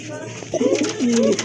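Pink-beaked Lotan pigeons coo up close in a couple of loud, low throaty phrases, with a voice speaking just around them.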